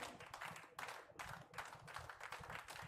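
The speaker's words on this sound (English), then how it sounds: "What's the clapping for?" Quiet, dense clapping from a wrestling broadcast plays faintly in the background as a rapid, uneven patter of many hands.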